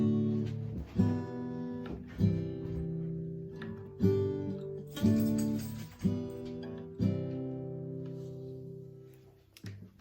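Acoustic guitar strummed through a sequence of chords, each change marked by a fresh strum about every one to two seconds, fading at the end.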